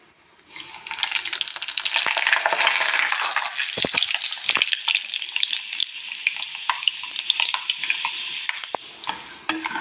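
Fenugreek seeds and nigella seeds dropped into smoking-hot mustard oil for a starfruit pickle, bursting into a loud, steady sizzle with crackling pops and a few clinks of a stirring spoon, close by and with no talk.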